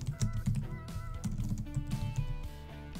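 Quick bursts of close computer keyboard typing, rapid irregular key clicks and taps over a few seconds.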